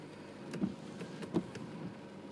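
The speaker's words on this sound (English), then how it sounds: "Windshield wipers on." Car windshield wipers sweeping in the rain inside a car, two soft thumping strokes about three-quarters of a second apart over a steady rain-and-cabin hiss, quiet and close.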